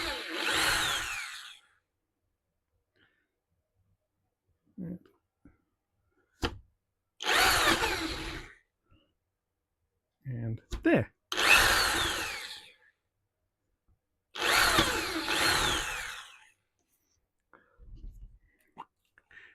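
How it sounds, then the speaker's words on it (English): Several bursts of a power drill with a 4mm bit whirring into wood, each lasting a second or two with pauses between, close by, with a brief spoken remark in the gaps. "I'm using a 4mm drill bit."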